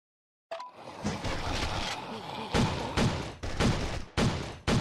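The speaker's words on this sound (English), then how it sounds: "Gunfire's too loud." Loud rapid bursts of gunfire with turret fire in the post-apocalyptic survival mobile game State of Survival, several sharp volleys repeating over a sustained noisy battle bed.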